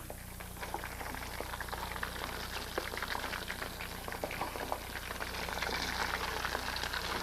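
Shrimp fry in hot oil for sweet and sour shrimp, giving a steady soft bubbling sizzle with scattered small pops, continuous and fairly faint, with no talking.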